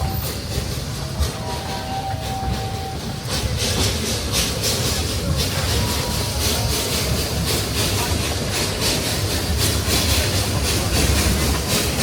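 A steam train climbs a steep grade through a redwood forest in Santa Cruz, California, toward Bear Mountain, giving a steady rumbling roar with rhythmic chuffing and a brief whistle, and faint voices underneath.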